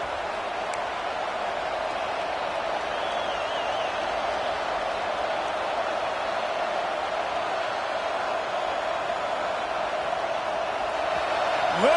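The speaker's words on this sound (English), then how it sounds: "Listen to this crowd just shaking the girders of this place, trying to help their defense." A large stadium crowd roars steadily and loudly at a college football game, a dense, continuous wash of noise late in a tight contest with no letup.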